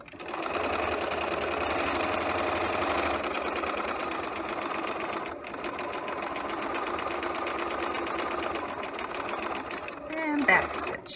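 Close and steady, a sewing machine whirs while back stitching a fly zipper with the needle centered and the regular foot, running almost continuously with a brief pause midway and a handling rustle at the end.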